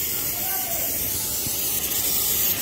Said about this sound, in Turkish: Balata spreyi.